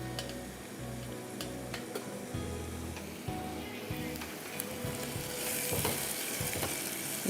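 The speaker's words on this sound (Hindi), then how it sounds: "इसको हम फ्राई कर रहे हैं।" Garlic, two tablespoons' worth, fries in a pan with a steady, close sizzle that crackles and pops throughout, with occasional stirring taps against the pan.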